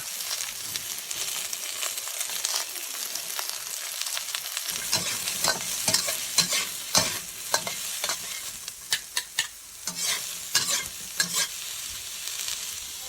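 Chopped garlic, onion and ginger stir-fried in a wok, a steady loud sizzle broken by repeated sharp scraping and tossing strokes that grow busier partway through, with no voices.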